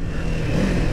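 A Kawasaki Ninja 500 sport motorcycle engine held at high revs, a loud, steady, buzzing drone with no break across the short stretch.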